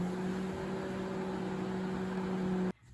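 A microwave oven running on high while cooking a basic omelet in a mug, a steady low hum with fan noise that stops abruptly near the end.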